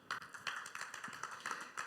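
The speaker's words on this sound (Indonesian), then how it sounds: "Tepuk tangan yang meriah buat Tuhan kita." A church congregation claps at a sermon, in quick rhythmic bursts about three times a second, fairly faint and without voices over it.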